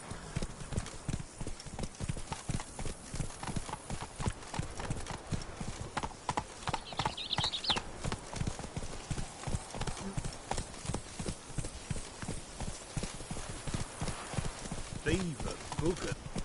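Hooves of Roach, the horse in the video game Witcher 3: Blood and Wine, clopping in a steady rhythmic gallop, loud and continuous, with a voice talking over it.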